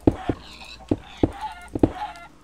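A Minecraft chicken clucks in the game, with several short, sharp squawks spaced irregularly over a faint background, fairly quiet and alone.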